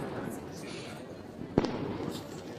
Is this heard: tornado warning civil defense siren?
no